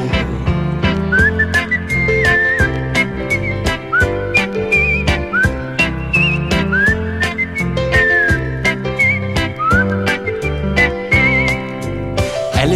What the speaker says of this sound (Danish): han kan lide at jule, og så fløjter han den der